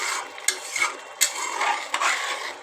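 Spices with salt and turmeric being stirred and fried in a pan, with a soft sizzle and a few distinct scraping strokes and utensil knocks, close and fairly loud.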